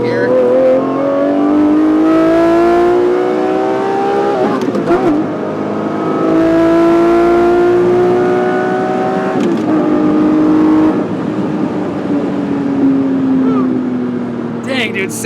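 A Lamborghini accelerates hard through the gears, its engine note climbing in pitch with each gear, dropping at roughly three upshifts, loud and close throughout.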